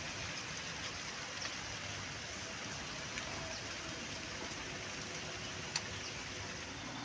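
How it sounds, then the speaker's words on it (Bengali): Steady light rain drizzling over trees on a wet morning, a constant gentle wash of patter with occasional sharper drops, evenly loud and uninterrupted, no one speaking. "বৃষ্টিটা এখনো পড়ে যাচ্ছে, বেশ ভাল লাগছে বৃষ্টিতে।"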